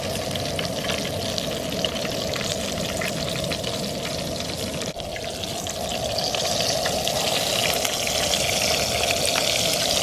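Bullfrog legs sizzle in a hot pan, a dense, continuous crackle and spatter that holds at an even level throughout with no voices.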